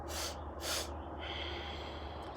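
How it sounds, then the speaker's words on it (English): A person takes three quick, sharp sniffing inhales through the nose as part of a breathing exercise, the first two strong and distinct, followed by a long, soft exhale, heard up close. "So she inhaled quickly 3 times, and then she exhaled."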